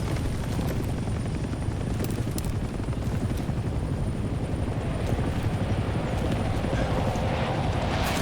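A helicopter in the Vietnam-era shooter Hell Let Loose Vietnam thunders steadily overhead, its rotor thump loud and constant throughout, and players talk over it.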